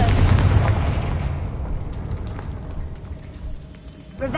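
A Confringo blasting spell goes off in the Hogwarts Legacy video game on PlayStation 5, one loud booming explosion that fades into a long rumbling tail, followed by a fresh burst right at the end.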